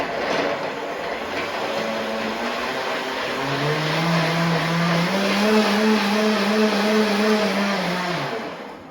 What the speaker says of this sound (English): we're going to whip this up in the blender